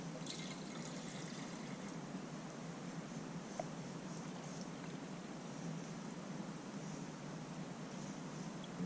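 Water being poured into a skillet breakfast pouch, a steady soft trickle and fill running throughout at a fairly faint level, with no talking.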